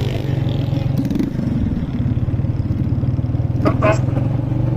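A motorbike runs nearby in a busy street setting, its engine putting out a steady throbbing rumble throughout, with a person talking over it and brief clattering noises.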